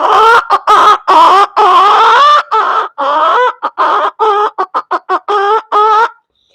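A man imitates a hen clucking, a rapid close run of loud nasal clucks and longer cackles, some drawn out, others clipped into quick staccato bursts before stopping abruptly.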